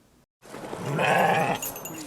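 Sheep bleat at an outdoor living nativity held in a church parking lot and field, a single drawn-out call rising clearly after a brief silence and carrying for well over a second.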